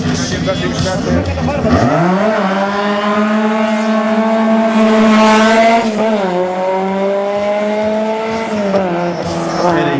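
A Formula Delta 2 race car with a Škoda Fabia engine sits at the start of a Slovak championship hill climb at Šturec. Its engine drones loud and close, rising in revs toward the middle, over faint crowd murmur.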